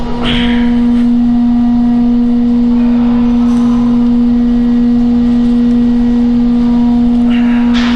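A motorcycle engine in first gear while riding in Hokkaido, Japan, making a loud, steady droning hum close by that holds an even pitch for the whole stretch, with no voices over it.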